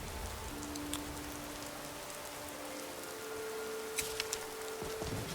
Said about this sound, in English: Should we put our hood on as well since it's raining?